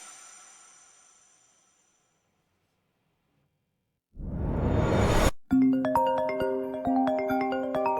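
A phone ringtone breaks in after a short rising whoosh and plays a bright, steady electronic melody of repeating tones that stays loud to the end, with no talking over it.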